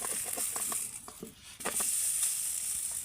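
Aloo kulcha fries in ghee in a pan with a continuous close sizzle, broken in the first half by a series of light scraping taps as the breads are turned.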